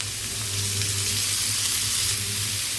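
Cooking oil hitting a hot pan while preparing Malvani mori (shark) masala, a steady close sizzle with no talk.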